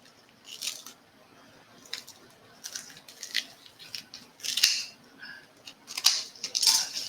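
Scissors snip and crunch through excess floral spray on a wreath, a series of sharp irregular cuts close by over about seven seconds.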